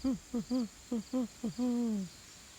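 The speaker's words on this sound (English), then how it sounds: "I heard an owl" An owl hoots close by in a quick series of about six short calls, ending with one longer drawn-out hoot, over a quiet background.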